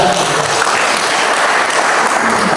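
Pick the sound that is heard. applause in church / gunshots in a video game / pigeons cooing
applause in church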